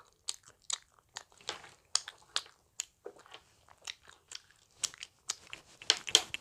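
Someone bites and chews an Earth Jelly gummy with a grape jam filling, giving a run of close, crisp crunching and squishy chewing bursts at an irregular rhythm, with no talking.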